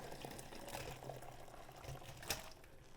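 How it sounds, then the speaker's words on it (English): Chicken broth pours into a strainer in a sink with a soft, continuous splashing and bubbling trickle, fairly quiet, with a brief louder splash near the end. "And then I'm just gonna pour into the strainer to catch"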